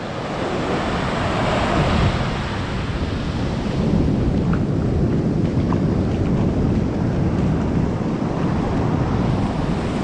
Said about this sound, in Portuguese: As ondas estão arrebentando, hein? Cada onda grande.